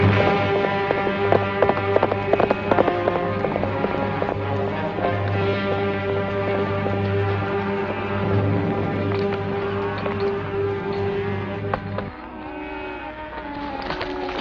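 Rhythmic clip-clop of a horse's hooves, loudest at the start, from a horse with a loose shoe, mixed under steady orchestral music.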